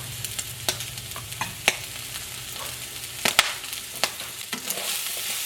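Onions fry in a pan while being stirred, a steady sizzle under repeated scraping clicks and taps from the spoon, close and fairly loud.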